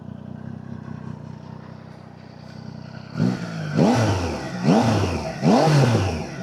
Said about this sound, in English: Actually, let's leave it in N. Let's do another little rev.